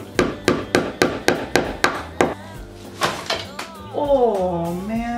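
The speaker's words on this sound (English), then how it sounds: "I'm hammering anywhere at this point" Eight quick, evenly spaced hammer strikes knock on wood, followed by a few softer taps and a voice.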